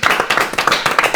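A small group claps steadily in a room, giving a brisk, close patter of hand claps.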